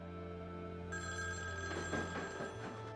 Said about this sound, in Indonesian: terdengar suara telepon berdering dari kamar miliknya tadi